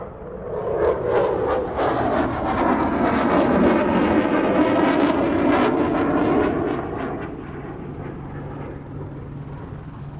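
A Eurofighter Typhoon fighter jet roars past at the Farnborough airshow, a loud swelling engine blast with crackling that peaks and then fades to a lower distant rumble.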